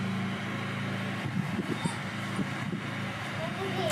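A noisy portable generator running outdoors, a steady low engine drone like a car warming up, continuous under people talking nearby.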